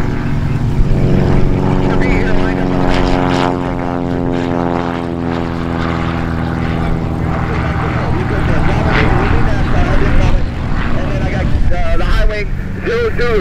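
Propeller aircraft taxiing and lining up for takeoff at the busy EAA AirVenture Oshkosh fly-in, a loud steady engine drone with shifting propeller pitch tones rising and falling over about thirteen seconds.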